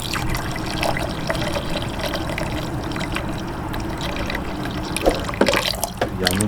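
Water splashes and trickles steadily while pork intestines are rinsed with salt in a kitchen, a continuous wet wash with a few louder pours and drips near the end, with no voices.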